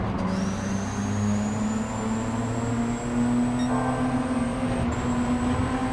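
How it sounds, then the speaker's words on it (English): A steady Honda S660 engine drone in the racing video game Gran Turismo 7 holds a constant pitch with a faint high whine above it, continuous and fairly loud throughout, with no voices. "We could hear the engine revving."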